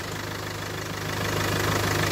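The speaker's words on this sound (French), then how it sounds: "Donc là, le moteur tourne." A diesel engine of a 2017 Range Rover Evoque idles steadily with a low, even rumble and faint rhythmic knock, close and continuous, growing slightly louder toward the end.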